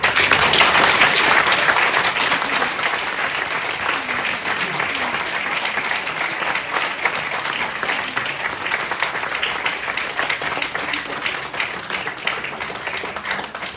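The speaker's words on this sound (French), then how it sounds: "je veux que vous les applaudissiez très fort pour leur envoyer toute la bonne énergie" A theatre audience at a stage show claps loudly and continuously, a dense, even roar of many hands sustained throughout.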